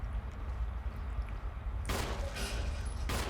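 Gunfire in an online Halloween party video game comes as two bursts of sharp shots over a steady low background hum, moderately loud and close.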